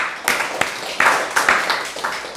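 A church audience breaks into applause, a burst of clapping that rises in several waves, fairly near and loud with no talk over it.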